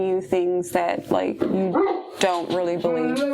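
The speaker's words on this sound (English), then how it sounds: "Sorry about the dogs" Dogs bark and yip in quick bursts close by, mixed in with a person talking steadily over them.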